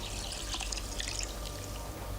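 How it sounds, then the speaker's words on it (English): Water dripping from a valve onto a small propeller, a soft continuous trickling and splashing with bright patter, steady and fairly close, with no talk. "The water drips slowly from this valve and onto this propeller, making it turn."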